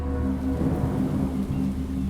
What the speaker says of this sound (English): The weather was foul, a storm pouring down rain upon the hapless fishermen.